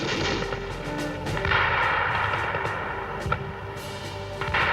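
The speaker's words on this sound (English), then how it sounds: "the Germans were able to direct murderous artillery fire" WWII artillery fires on the Normandy beaches during the landings, heard as repeated heavy booms and rumbling gunfire in quick succession, loud and dense, with no speech over it.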